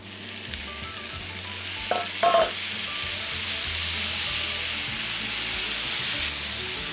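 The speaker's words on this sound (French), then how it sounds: "c'est plutôt de faire sauter les tomates avec les oignons et l'ail dans de l'huile d'olive" Tomatoes, onions and garlic sauté in olive oil with a steady, close sizzle, and a couple of short scraping stirs cut in around the middle.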